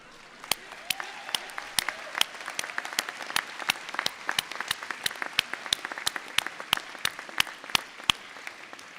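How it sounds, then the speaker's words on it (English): Scattered applause for a graduate at a winter university graduation ceremony, individual claps distinct and fairly sparse, steady across the whole stretch at moderate level with no voices on top. "So that's a big clap for, I think it was Joshua."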